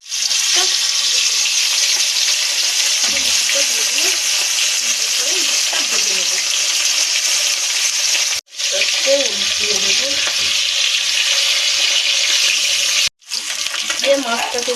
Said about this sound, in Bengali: এবার কিন্তু মাছটা ভাজা হবে। তেলটা গরম হয়ে গেছে।